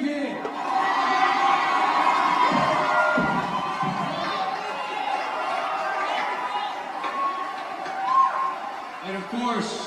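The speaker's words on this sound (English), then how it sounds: "Give yourselves a big hand!" An audience at a cheer event applauds and cheers, with a dense sustained roar of shouting and clapping and a few higher whoops rising from the crowd throughout.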